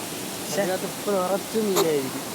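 Steady rushing water from a waterfall hums in the background while voices speak in short bursts over it.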